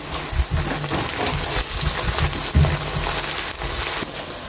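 Onions with salt sizzle in a pan, a steady close frying hiss with small pops and occasional stirring knocks.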